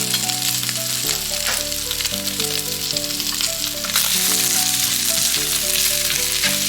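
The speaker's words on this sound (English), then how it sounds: "Fry it with the garlic" Crispy pork belly stir-frying with garlic in a hot pan, a loud, steady sizzle that swells after being stirred, with background music tones beneath and no talking.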